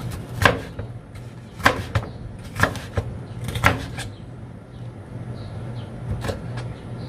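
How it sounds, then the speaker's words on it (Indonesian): Several distinct knife chops on a cutting board as a bell pepper is cut into small pieces in a cramped kitchen, sharp evenly spaced knocks that fade into quieter background. "Kemudian ini paprikanya mau tak potong kecil-kecil"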